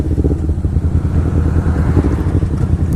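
A Kawasaki Ninja 250R sport motorcycle engine rumbles steadily and loudly throughout, with low throbbing revs and some mechanical clatter, no voices.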